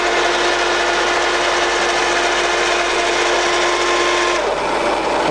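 A Union BFT-80/2 horizontal boring machine on rapid traverse upward, giving a steady, loud mechanical whine and grinding rush with a held tone that shifts slightly near the end. No one speaks.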